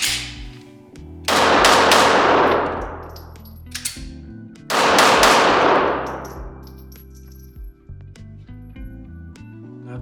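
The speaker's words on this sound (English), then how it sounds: "Gonna do some rapid fire. This time I'll start with the Glock" A Glock 42 .380 pistol fires two quick rapid-fire strings at a range, each burst of loud sharp reports ringing out with metallic clangs, followed by lighter handling clicks.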